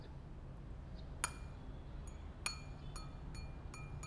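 Drinking glass struck with a marker pen, giving several bright, clear pings that ring briefly, spaced unevenly over faint background hiss, fairly quiet overall.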